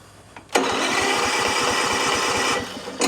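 A small gasoline engine on an RC lawn mower sputters to life and runs with rapid, rattling putters for about two seconds before cutting out, heard up close.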